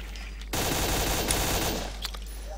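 A sustained burst of rapid automatic fire erupts after a short quiet moment in Stalker Call of Pripyat with the MISERY mod, loud and continuous, with a couple of sharper cracks near the end and no talking.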